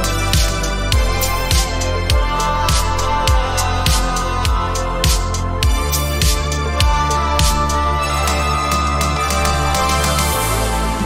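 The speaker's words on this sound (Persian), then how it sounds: "اینجا این صدای اورگه" Rap beat with a sustained organ tone layered over punchy repeating drum hits and deep bass, loud and continuous throughout.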